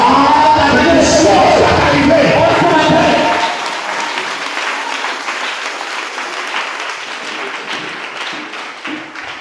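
Congregation at a church service applauding loudly and densely for about three seconds to acclaim the Lord, then tapering to scattered, fainter claps under murmuring voices.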